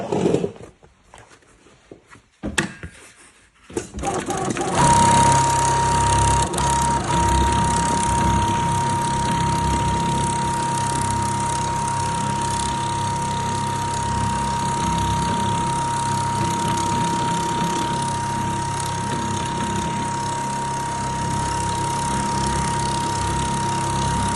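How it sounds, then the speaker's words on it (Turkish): A model 867 double-needle sewing machine with automatic thread cutting starts up after a few seconds of quiet handling, then runs in a steady, loud, even hum with a constant whine for about twenty seconds. "Makinamızı çalıştıralım. Makinamızın sesini duyun."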